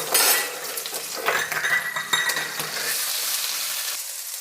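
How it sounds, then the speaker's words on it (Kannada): Chili frying in a pan with chopped onion and tomato for an egg and lentil curry, with steady sizzling under repeated stirring, spoon scrapes and light clinks of utensils against the pan, close and moderately loud, no talking. "ಮೆಣಸಿನ್ಕಾಯಿ ಫ್ರೈ ಆಗ್ತಿದೆ"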